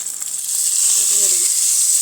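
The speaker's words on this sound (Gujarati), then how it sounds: "તેમાં લાલ મરચું પાવડર અને થોડા મીઠા લીમડાના પાન અને વઘાર છે ને" Hot oil sizzles loudly in a tempering of red chili powder and curry leaves for a whole-onion curry, a steady close hiss from start to finish.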